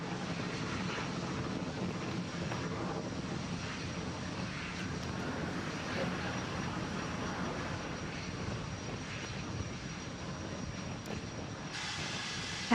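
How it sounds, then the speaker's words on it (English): A SpaceX rocket lifts off on a cargo resupply launch to the International Space Station, its steady, broad roar continuous and fairly distant throughout, with no voices over it. "And we have liftoff."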